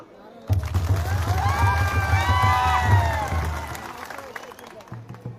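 A large rally crowd at Rai railway station claps and cheers for itself, a loud sustained burst of applause with shouting voices, starting abruptly and fading after a few seconds.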